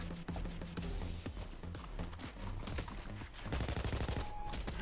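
Scattered gunshots in the heist shooter Payday, irregular bursts and single cracks at moderate distance, mixed with busy clattering, fairly faint overall, with no one talking.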